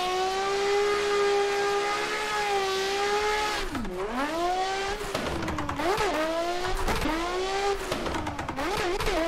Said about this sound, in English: This car is very stable. I'm definitely enjoying how this car is ripping.